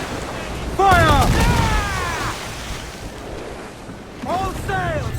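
Ship cannons fire in Assassin's Creed Black Flag as a loud broadband blast bursts out amid sea ambience, with shouted voices over the roar and more voices near the end.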